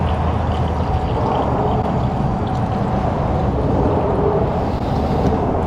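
Water pours into the radiator of a Toyota Solara that is overheating and leaking, a loud continuous gushing and gurgling up close with no voices over it.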